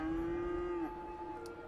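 A single long cow moo from livestock in the city-building game Cities: Skylines, a steady low drawn-out call that bends downward near its end, heard close with faint game ambience behind.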